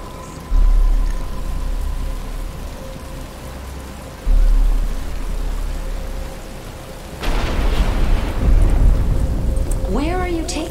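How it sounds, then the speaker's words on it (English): Rain beginning in the video game Batman: Arkham Asylum, a steady wash of rainfall that swells louder partway through, with low rumbles and a sustained musical tone underneath. "But it's starting to rain."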